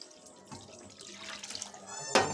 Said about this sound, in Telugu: దీనికి 1/2 లీటర్ వాటర్ అయితే యాడ్ చేసుకున్నామండి